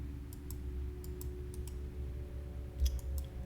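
Computer mouse clicks while working in modelling software, a handful of sharp, faint clicks spaced irregularly over a low steady room hum, no talk.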